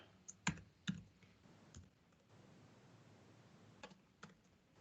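A few quick keystrokes on a computer keyboard, soft clicks in two brief clusters separated by quiet room tone, close and faint.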